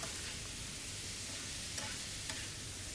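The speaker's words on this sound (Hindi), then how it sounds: "यानी कि हम मटन की कलेजी यूज़ कर रहे हैं, और इसको इतना फ्राई करेंगे कि ये थोड़ा सा कलर चेंज कर ले" Mutton liver pieces fry in hot oil with a steady, dense sizzle that holds level throughout, with a couple of faint clinks over the crackle and no one speaking.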